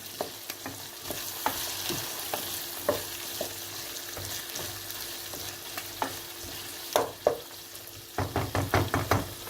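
Onions sizzle in a hot pan while a spoon stirs and knocks against it, with a burst of quick scraping taps near the end.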